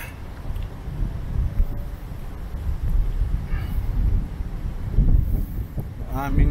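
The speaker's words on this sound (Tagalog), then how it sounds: "Five o'clock na malakas ang hangin." Strong wind buffets the microphone outside the Manila Hotel in the Philippines at five o'clock, a constant low roar and gusty rumbles, while a voice speaks faintly underneath.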